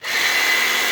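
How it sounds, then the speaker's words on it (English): A jigsaw starting up to cut MDF, its motor and blade whining up to a loud, steady, close buzz within the first moment and holding there. "So you just start your jigsaw off like that, just till you get going."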